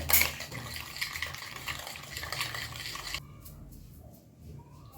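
Cracked eggs being mixed in a bowl, scraping and clinking utensil against the bowl with wet sloshing, close and steady, quieter toward the end.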